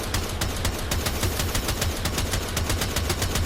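Rapid automatic fire from the Tiberon Prime rifle in Warframe, a steady burst of evenly spaced, loud shots running the whole time, with no talking.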